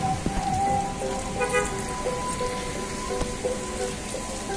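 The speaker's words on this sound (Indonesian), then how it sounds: "Hujan." Steady rain patters on a surface, a soft continuous hiss with scattered drops and faint tonal background sounds.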